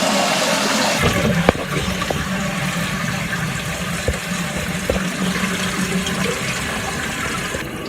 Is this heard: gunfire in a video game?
no